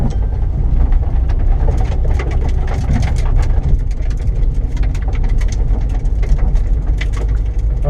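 Gravel picked up on sticky track tyres rattles and ticks under a car after a track day at Three Sisters, Wigan, with scattered sharp clicks over a constant low engine rumble and road roar.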